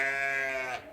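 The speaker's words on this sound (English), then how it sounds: "That was hello from the sheep over here." A single sheep lets out one loud, close bleat that fades at the end, with no voices.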